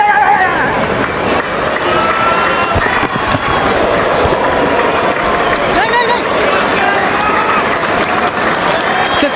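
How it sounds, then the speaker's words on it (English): A crowd at a Pakistan versus South Africa Test cricket match applauds Saud Shakeel's fifty with dense, sustained clapping, loud and steady throughout, a commentator's voice running beneath it. "his team appreciated, applauding from the change room"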